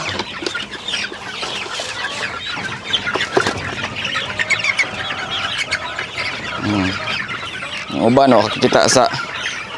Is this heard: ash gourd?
no